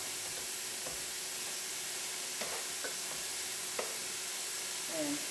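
Mushrooms and onion in a frying pan give off a steady broadband sizzle with a few faint stirring scrapes, close and even in level.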